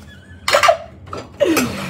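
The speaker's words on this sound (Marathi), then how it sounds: "चला भांडी घासतो मी." Pots and utensils clatter during dishwashing at home, in two short close bursts of clinking and scraping separated by a brief pause.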